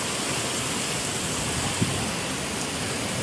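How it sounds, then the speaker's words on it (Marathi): Heavy unseasonal rain pours over a Konkan village, a loud, dense, steady hiss of downpour close by that runs without a break, with no voices. "पुढे चालूच आहे जोरात पाऊस"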